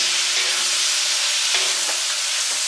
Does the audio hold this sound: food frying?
yes